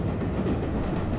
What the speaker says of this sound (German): Entgegenkommender Zug.